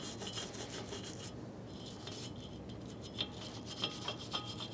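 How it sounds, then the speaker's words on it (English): A wire brush scrubs the rotor mounting surface of a 2000-2007 Ford Taurus front hub, a steady close rasping rub with quick back-and-forth strokes and faint metallic ticks, no talking. "I'm going to clean off our surface for the rotor."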